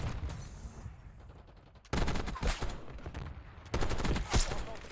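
Light machine gun fire from the diamond-camo LMGs in Black Ops 6, loud sustained bursts of automatic fire from about 2 to 3.7 seconds and again near the end, with quieter game ambience between them.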